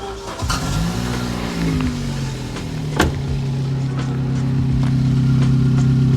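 Engine of a £400 hot hatch track car cranking over and catching, then settling into a steady running hum that slowly grows louder, close by with no talk.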